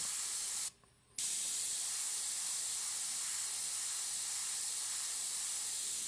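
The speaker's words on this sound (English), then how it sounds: "So I'm further away with the airbrush." An airbrush sprays paint in a steady, close hiss of air that stops for a split second near the start, then resumes and runs evenly.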